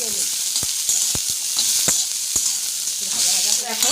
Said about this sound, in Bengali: এবার আমি উস্তেগুলো এর মধ্যে দিয়ে দেবো